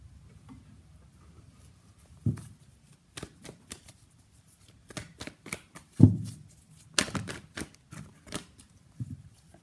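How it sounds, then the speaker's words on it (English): Tarot cards being shuffled by hand, a series of quick riffling and tapping bursts in irregular clusters, fairly close and crisp against a quiet room. "let's pull some cards from universe, where this connection is headed in near future"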